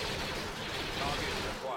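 Blasters and artillery trade fire in a Star Wars: Empire at War space-and-ground battle, a dense, continuous roar of overlapping gunfire and explosions that stays loud and steady throughout.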